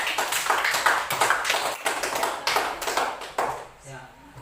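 A classroom of students claps for a classmate, a brisk burst of many hands clapping close by that tapers off and ends, with a voice heard briefly at the close.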